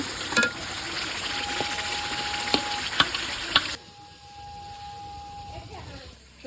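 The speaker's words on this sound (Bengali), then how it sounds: "নুন মরিচ আদা বাটা সব কিছু দিয়ে মরিচ কষে নিতেছি" Chilies with salt and ginger paste frying in a pan, a moderate sizzle with a few clacks of stirring, then quieter cooking with a faint steady tone, while a person talks.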